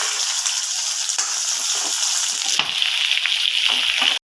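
Onion and green chili fry in a pan for poha, making a bright, close sizzle with crackling and stirring scrapes that runs steadily before cutting off abruptly at the end.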